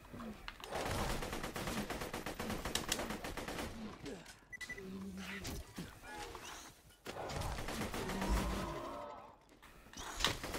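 A weapon in Borderlands 2 fires rapid, quiet bursts of gunfire, broken by brief pauses between volleys.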